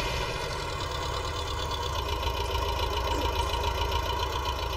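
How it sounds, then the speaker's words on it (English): David Brown tractor engine running steadily out in a farm field, a close, loud diesel chug with a constant low rhythmic throb and no talking over it. "Pulled the front end of the tractor up again."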